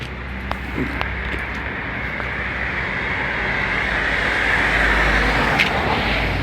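Road traffic with cars passing close by on a roadway, a steady whoosh that grows louder as vehicles approach, with a few faint clicks.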